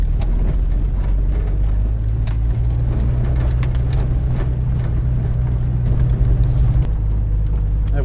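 A Jeep drives slowly along a rough forest road in the Carson National Forest. The engine drones low and steady up close, with scattered bumps and rattles from the rough surface and no speech.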